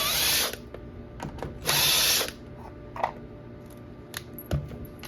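A power drill runs in a few short bursts, loud at first and again near two seconds, with quieter clicks and mechanical taps in between.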